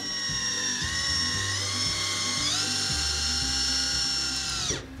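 A power drill bores pilot holes for 50 mm screws into a shed floor, one continuous high whine with shifting pitch as it loads, then winds down sharply at the end.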